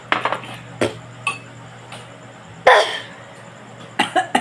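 One loud, close cough bursts out at a family meal, surrounded by the clinks and taps of cutlery on plates and dishes.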